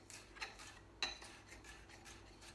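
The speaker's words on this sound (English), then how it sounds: "So now I'm going to slice the pepper up." A knife slicing a bell pepper into thin strips on a cutting board, soft repeated strokes with two sharper knocks of the blade against the board, close and fairly quiet over a steady low hum.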